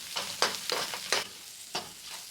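Ingredients for coriander fried rice sizzling in a pan while being stirred, with several distinct scraping strokes of the spoon over a soft background fry, close and fairly quiet.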